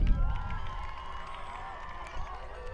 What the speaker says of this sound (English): And you can just hear the crowd cheering, having a tough time getting the snap count.